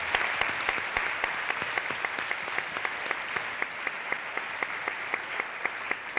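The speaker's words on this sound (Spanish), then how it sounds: "un fuerte aplauso para él" An audience at a talk on running experiences at Impuls València 2013 gives steady applause, a dense, even patter of many hands clapping that carries on unbroken with no voices over it.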